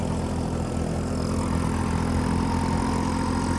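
A Massey 9500 4WD tractor engine runs steadily and close by, a continuous low diesel drone with a rumbling throb, working with an 8-foot Dashmesh super seeder in a farm field.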